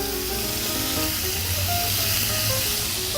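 Garlic and mince sizzle steadily in a frying pan, a constant close hiss of frying with no talking over it.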